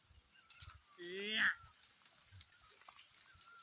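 A mixed flock of goats and sheep, around a thousand animals, roams a forest; one close bleat stands out over faint rustling and distant background noise.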